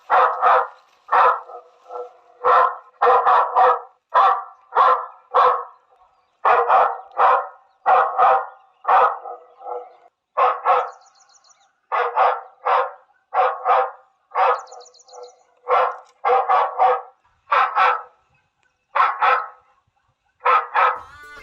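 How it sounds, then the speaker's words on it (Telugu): A recorded dog barking plays through a loudspeaker mounted by a farm field to scare off monkeys and wild boars, loud rapid barks in repeated bursts separated by short pauses, with no talking. "అగో ఇప్పుడు కుక్క సౌండ్ వస్తున్నదిగా మైక్లకెళ్ళి."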